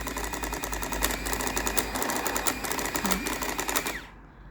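A printing calculator prints out a receipt, a fast buzzing, ratcheting chatter of the print head lasting about four seconds before stopping abruptly.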